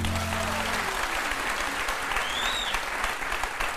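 Studio audience applause on a Turkish television talk show, steady dense clapping filling the whole stretch at an even level, with faint voices underneath.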